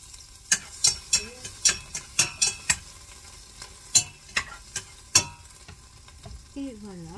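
Ginger and onion sizzle and get stirred in a buttered pan, with a rapid run of sharp utensil scrapes and taps that slows to a few scattered strokes over a faint frying hiss, close and without talking.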